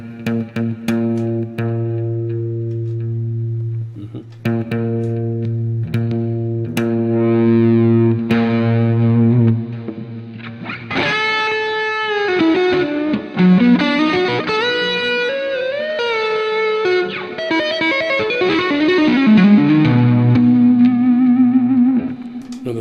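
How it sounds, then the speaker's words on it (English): Electric guitar drenched in heavy reverb and delay, starting with sustained bluesy chords that give way to a busy, distorted lead line with smeared repeating echoes. It is loud and continuous throughout, with no talking. "There's a lot of reverb and delay on that"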